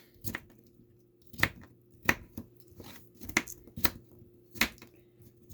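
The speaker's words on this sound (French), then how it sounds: "Je vais couper le concombre en petits morceaux comme ça" A knife chops a cucumber into small pieces on a board, about eight sharp, separate, uneven chops, close and distinct against quiet.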